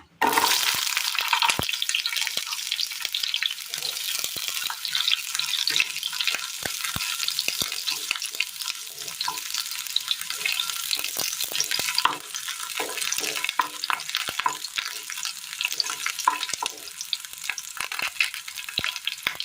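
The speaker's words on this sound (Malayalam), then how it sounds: "ഇതിലേക്ക് നമുക്ക് ചെറിയുള്ളി അരിഞ്ഞത് ഇട്ട് കൊടുക്കാം." Chopped shallots sizzle hard in a little hot oil, a loud bright frying hiss with frequent crackles and pops, continuous and close throughout, no voices.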